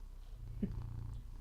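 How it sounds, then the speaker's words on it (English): A low, steady rumbling purr of a cat, close and fairly soft, continuing through the short stretch. "you purr so loud."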